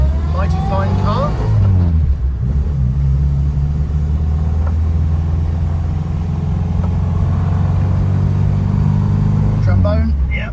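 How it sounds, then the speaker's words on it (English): A Subaru Outback's engine runs steadily at idle, a low continuous rumble close by, with someone talking over it throughout. "Subaru Outback, rare beast around these parts, mighty fine car."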